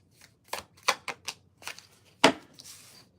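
Divination cards being shuffled by hand in a series of short, crisp riffling bursts, with one sharper snap near the end, fairly close and with no talking.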